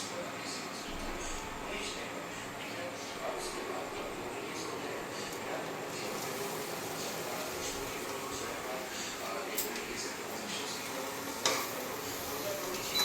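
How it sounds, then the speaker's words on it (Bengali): Boiled chow mein tossed with vegetables in a pan gives a steady low sizzle with soft scraping stir strokes and an occasional utensil clink, continuing evenly throughout. "সিদ্ধ করে রাখা চাউমিনটা এবার আমি এটাকে একটু নাড়াচাড়া করবো ভালো করে মিক্সড করব ভেজিটেবলসের সাথে"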